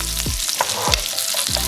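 Butter sizzles steadily around a salmon steak in a frying pan while being basted, with a few soft spoon or pan knocks over the constant frying hiss.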